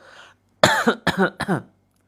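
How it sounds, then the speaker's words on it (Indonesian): A person coughs several times in quick succession, close and clear, after a brief faint murmur, then silence. "Ada yang batuk-batuk, saya juga ikut batuk-batuk ini."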